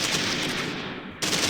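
A machine gun fires in the WWII Eastern Front video game Close Combat 3, a loud, rapid, continuous burst that briefly eases and then resumes.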